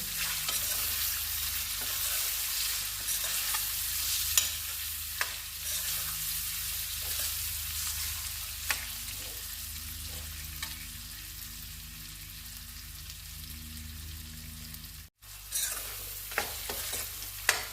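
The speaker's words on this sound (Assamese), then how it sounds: "মই এতিয়া অকণমান দেৰি কাৰণে ভাজি ল'ম।" Cumin powder and red chilli powder frying and being stirred in a pan for a sweet olive pickle, a steady close sizzle with occasional scraping taps of the spoon, alone with no talk.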